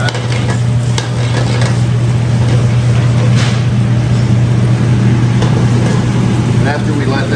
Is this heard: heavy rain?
no